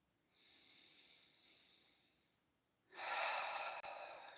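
Slow, deep meditative breathing close to the microphone during a guided healing meditation: a soft, drawn-out airy inhale, a pause, then a louder, fuller breath.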